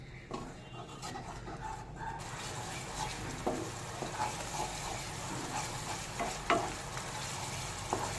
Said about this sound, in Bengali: কিছুক্ষণ মশলাটাকে এভাবে করে একটু নেড়েচেড়ে কষিয়ে নেব